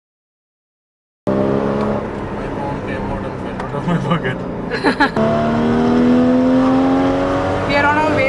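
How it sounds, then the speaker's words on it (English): A car with a new aftermarket exhaust drones steadily from inside the cabin while driving to a gas station, rising in pitch as it accelerates, with someone talking over it. "The new exhaust sounds really awesome."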